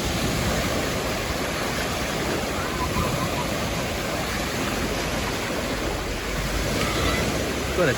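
Sea waves break at Alcudia beach in late September, a continuous rushing roar of surf with surging swells, fairly close and steady from start to finish.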